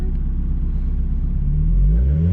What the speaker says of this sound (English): I'm gonna give it a little gas. Just a little gas.